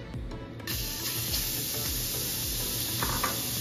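Pork dropped into a heated pan for a banana blossom and glass noodle dish sizzles in a loud, steady hiss that swells after a moment and carries on, close and without talk.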